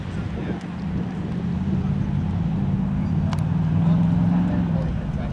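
An Ultra4 Limited Class off-road race car driving through on the gas at a race in Shamokin, Pennsylvania, a steady low engine drone with wind buffeting the microphone while a commentator talks over it.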